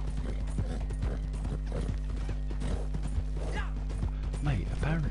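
Horse hooves galloping in Red Dead Redemption Online, a quick, steady clip-clop of hoofbeats with creaking tack and a brief whinny near the end.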